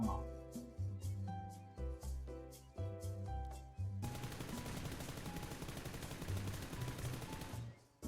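Rapid automatic gunfire bursts in PUBG Lite, first in choppy short volleys, then a sustained loud stream of shots emptying a magazine over a few seconds.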